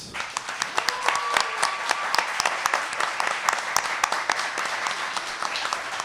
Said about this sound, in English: Ladies and gentlemen, in-house, a big round of applause for Dillon Elliott.